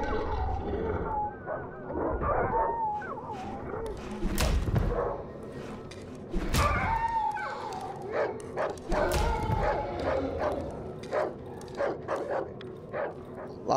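A pack of dogs barks and yelps repeatedly in the Darkwood video game, loud overlapping barks mixed with heavy thuds and slams, building to a dense, rapid barrage.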